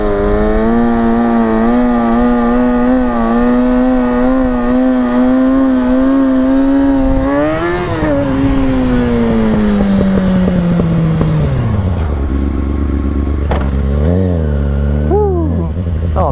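A Kawasaki 636 sport motorcycle engine revs loud and close during handbrake stunt riding, holding a steady high drone, then climbing and sweeping downward as revs drop, with brief blips and throttle rises toward the end.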